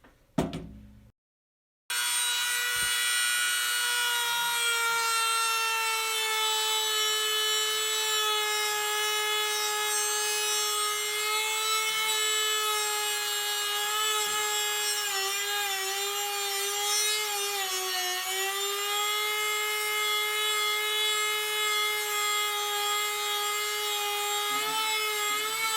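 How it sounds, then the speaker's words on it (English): A powered saw tool fitted with a sanding file smooths a metal part for a Honda ATC recoil decompression hook plate, producing a steady, loud whining drone with a strong pitched hum that wavers slightly as pressure changes, after a short silent pause at the start. "I'm going to switch out this blade to something with a sanding file on it."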